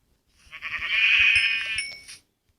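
A single sheep gives one long, wavering bleat lasting about two seconds, fairly close and loud, with no talking around it.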